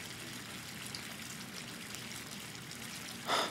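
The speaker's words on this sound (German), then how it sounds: "Wann ich den Hahn wieder abdrehen muss, sozusagen." A bathtub tap runs hot water in the video game Life is Strange 2, a steady, soft trickling stream pouring continuously, with a brief louder splash at the end.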